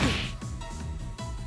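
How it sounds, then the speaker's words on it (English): Sharp weapon strikes on a cat enemy in the battle of the Trails of Cold Steel role-playing game, a quick whoosh followed by a couple of crisp thwacking impacts in rapid succession, loud and close with no talk. "Just hit the cat until it dies."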